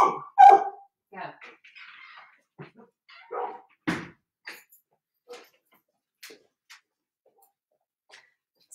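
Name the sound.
dog barking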